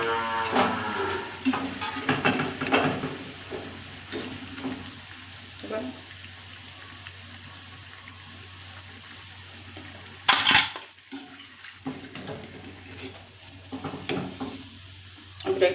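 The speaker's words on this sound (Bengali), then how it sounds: "বাকিগুলো আমি এভাবে ভেজে নেব" Gedal leaf fritters made with baking soda, frying in hot oil, give a steady soft sizzle through most of the stretch, with occasional stirring clatter and a sharp utensil clink near the middle.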